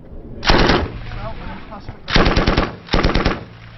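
Soldiers in Helmand, Afghanistan firing many weapon systems from base walls, three loud heavy bursts of rapid machine-gun fire separated by short gaps, close and echoing.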